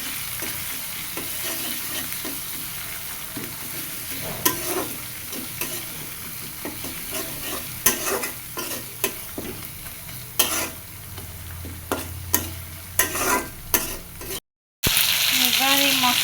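Ginger paste, dried chili paste and turmeric fry in a pan, giving off a steady sizzle broken by sharp scrapes and knocks of a spatula stirring the masala, close by, with a brief dropout near the end.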